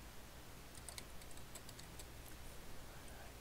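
Brief run of typing as a file name is entered on a computer keyboard, a few light key clicks in an uneven cluster, faint beneath a steady background hiss, no one speaking.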